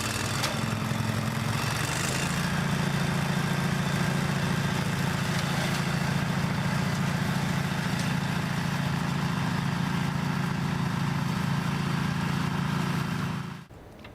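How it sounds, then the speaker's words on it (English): A Briggs & Stratton 16 horsepower V-twin engine on a flail mower idles steadily and loudly with a constant low rumble, then cuts off abruptly near the end. "The Logic flail mower is powered by a Briggs & Stratton 16 horsepower V-twin engine"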